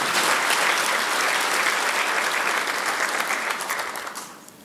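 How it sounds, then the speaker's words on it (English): Applause fills the room at an accountants' annual general meeting, a loud, sustained wash of many hands clapping that holds steady and then tapers off over the last second. "Let's clap for him."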